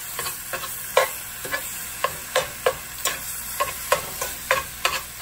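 Ground meat seasoned with taco seasoning cooks in a pan, giving a steady soft sizzle broken by sharp scrapes and stirs of a utensil at a fairly even rhythm, close and without voices.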